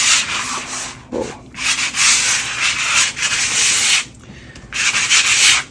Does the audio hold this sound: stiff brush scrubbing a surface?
yes